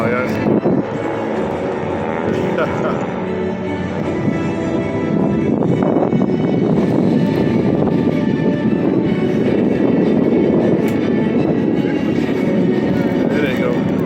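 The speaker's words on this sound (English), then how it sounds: "you can appreciate the beauty of 5 classic World War II aircraft in tight formation" Five classic World War II propeller aircraft pass in tight formation at an air show, a loud, steady engine roar that swells and fills the whole stretch with broad rumbling noise.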